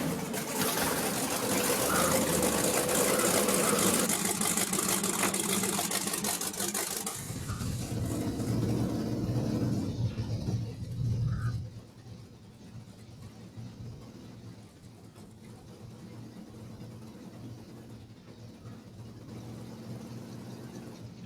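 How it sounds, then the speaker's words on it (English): A Jeep Wagoneer engine in the Snowrunner video game runs steadily, a loud broadband hum and whir that drops to a lower, quieter idle partway through. "It's got a cool engine sound."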